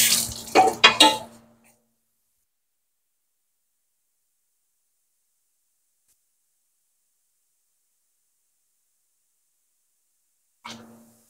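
Kitchen utensils washed under running water in a household kitchen in Taiwan: a short burst of splashing water and clatter at the start, then silence, with a brief faint splash near the end.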